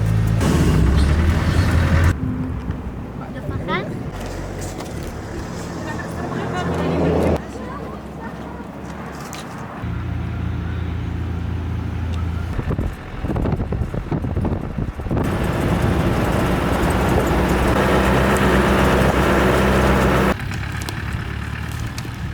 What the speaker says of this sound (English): We've just driven up a pretty gnarly track to a pretty spectacular view.